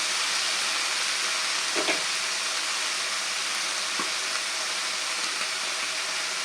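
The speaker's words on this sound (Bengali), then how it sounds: "মোচাটা ঢেলে দিয়ে একটু ভেজে নেবো পরিমাণ মতন লবণ দিয়ে দেবো" Chopped banana flower (mocha) fries in a pan for a Bengali vegetarian dish, giving a steady, dense sizzle throughout with a couple of faint stirring knocks and no talk.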